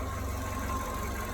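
A VW Polo engine idling steadily just after an oil change, a continuous, even mechanical hum with a faint regular ticking knock, close and unbroken, with no voices.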